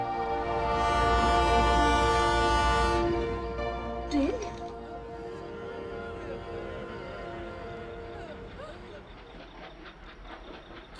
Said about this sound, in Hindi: ये ट्रेन पास आ रही है